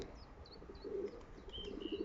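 Soft pigeon coos, several short rounded calls in a row, over a faint background with a few higher chirps; newly caught neighbour's pigeons held in a loft, no speech.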